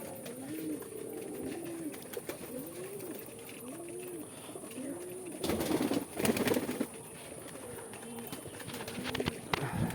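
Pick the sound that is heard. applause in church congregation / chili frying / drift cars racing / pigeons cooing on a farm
pigeons cooing on a farm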